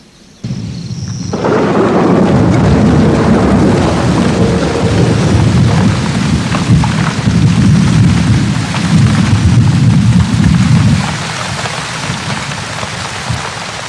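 Heavy rainstorm on the open plains, with a dense, loud downpour that starts abruptly and low rumbling thunder rolling beneath it for several seconds before easing slightly, steady rain continuing throughout.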